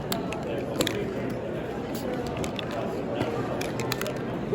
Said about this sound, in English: spray these on your sheet.